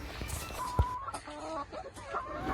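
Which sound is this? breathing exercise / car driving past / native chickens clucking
native chickens clucking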